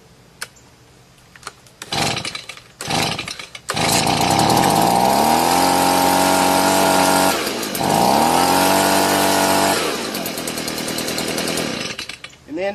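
A Stihl BG86 backpack leaf blower's small two-stroke engine catches with a couple of brief pulls, then roars loud and close at steady high revs, dips briefly and revs back up before settling lower.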